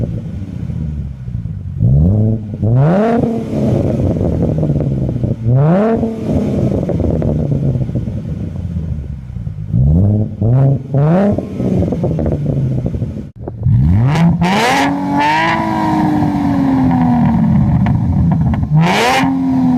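A 3.7L V6 Mustang fitted with a Trident axleback exhaust revs loudly and close by, with several sharp climbing blips that drop back to a deep rumbling idle, and a longer sustained rev near the end.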